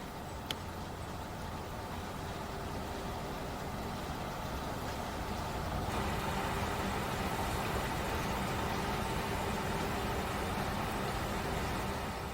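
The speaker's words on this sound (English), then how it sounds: "There is a continuous humming noise in the background of industrial activity." Continuous industrial humming drifts across the Thames Estuary from the sand jetty at Gravesend, a steady broadband drone with traffic-like engine rumble, constant and fairly distant, with no voices over it.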